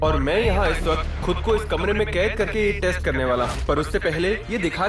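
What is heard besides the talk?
None of the usual background noises is heard.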